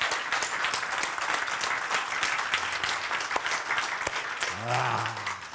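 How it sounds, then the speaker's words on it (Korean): Audience applause fills a lecture hall, steady clapping from many hands throughout, with brief voice-like tones near the end. "박수!"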